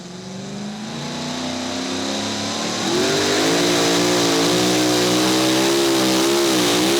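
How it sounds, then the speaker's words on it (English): A T-Bucket pulling vehicle revs hard at the 2024 Hillsboro tractor pull. The loud, sustained engine roar climbs steadily in pitch and holds a high, wavering snarl near the end, with no talk over it. "Working that throttle, getting all that horsepower down here to Hillsboro track."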